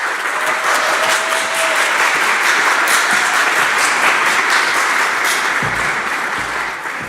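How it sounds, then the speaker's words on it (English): Audience at a high school's annual Broadway revue breaks into sustained, dense applause to open the show, loud and steady throughout and fading slightly at the end. "let's give a round of applause to kick off the show"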